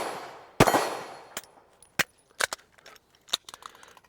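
Gunshots crack on an outdoor shooting range, a sharp loud report with a decaying tail followed by several quicker shots and metallic clinks, fairly close and with no talking.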